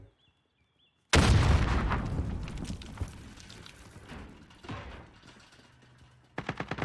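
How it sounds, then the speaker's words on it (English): Grenade explosion in Call of Duty, a sudden loud close blast after a second of near silence, its rumble decaying over several seconds with scattered gunfire cracks and a final burst. "Throwing a grenade."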